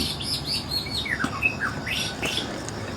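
A songbird sings loud, varied whistles and sweeping chirps, a white-rumped shama trilling clearly and alone.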